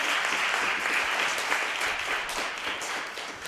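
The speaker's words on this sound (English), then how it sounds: "let's give a round of applause for our panelists" Steady applause from a crowd, dense clapping that holds evenly for a few seconds and tapers slightly near the end.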